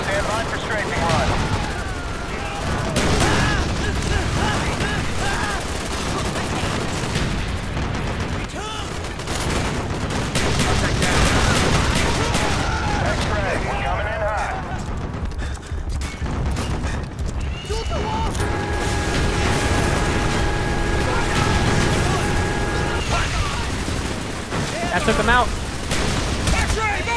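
Call of Duty: Black Ops game combat with dragon's breath shotgun blasts and an air strafing run: dense, continuous gunfire and booming explosions throughout, with mechanical whines and a steady tone near the end, under occasional game voices.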